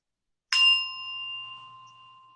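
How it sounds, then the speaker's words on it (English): A meditation bell is struck once and gives a clear, bright chime. It rings out alone in a quiet room and slowly fades. "And I'll just ring the bell once more."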